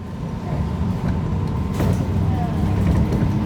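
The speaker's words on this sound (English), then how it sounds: "I hear a bus coming as well" City bus pulling up on a street near Elephant Mountain, its engine rumbling low and steady and growing slightly louder as it nears, with a brief brake hiss and a faint whine amid traffic noise.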